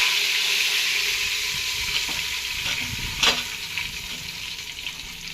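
Bay leaf, cumin and onion fry in hot oil while chicken dum biryani is being made. A steady close sizzle runs throughout, with a brief clatter of stirring midway. No voices.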